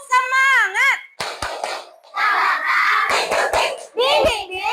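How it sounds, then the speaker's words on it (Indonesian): A class of third-grade schoolchildren performs a rhythmic spirit clap, sharp claps in patterned bursts mixed with children's chanting voices, loud and close in the classroom. "kita sama-sama tepuk semangat dulu ya"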